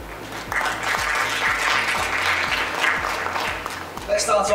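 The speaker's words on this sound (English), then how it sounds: "Give a round of applause." An audience at a restaurant awards ceremony applauds a sponsor in a sustained, crowded wash of clapping, with a low rhythmic music bed underneath and a brief burst of other sound near the end.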